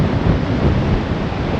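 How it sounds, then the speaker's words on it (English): Wind buffets the microphone at a coastal clifftop camping spot in Western Australia with a loud, steady rushing roar, heavy in the low end, with no voices. "It's a bit windy."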